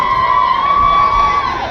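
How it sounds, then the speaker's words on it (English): A crowd of spectators, many of them children, cheers and shouts steadily at a Roman and Celt battle reenactment in Queanbeyan, with a sustained tone running through the loud, continuous noise. "Give him a big cheer."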